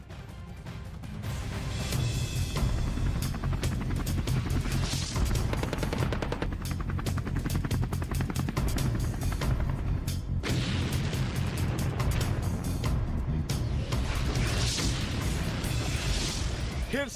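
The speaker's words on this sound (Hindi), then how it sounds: "K-52 एलिगेटर हेलीकॉप्टर का एक नया वीडियो जारी किया है, जिसमें हेलीकॉप्टर घातक हमले करता हुआ दिखाई दे रहा है" A Ka-52 Alligator attack helicopter fires its guns in combat, dense rapid bursts of gunfire and booms over a steady rotor drone, continuous and distant-sounding at moderate level.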